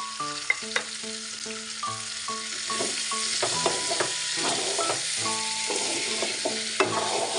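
Black mustard paste is stirred in a frying pan while making a nut pickle, a soft continuous sizzle with light scraping under faint steady musical tones and no talking.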